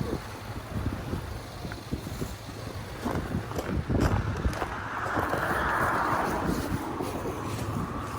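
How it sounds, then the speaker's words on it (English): Gusty wind buffets the microphone in rough, uneven bursts, loud and close, with a steadier rushing swell toward the end, outdoors in snow at Big Bear, California, after a snowstorm. "it's windy over here."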